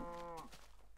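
Cows in the Minecraft video game moo in a short, clear, close call with a buzzy low tone, followed by faint soft footsteps.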